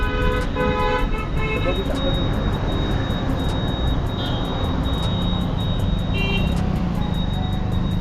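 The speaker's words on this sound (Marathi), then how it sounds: "समोरून गाड्या येत होते म्हणून जरा वाट बघतोय आम्ही रस्ता मोकळा व्हायची" Traffic on the Pune-Bangalore highway at a junction, with vehicles passing in a steady roadway roar and repeated horn toots cutting through near and far throughout.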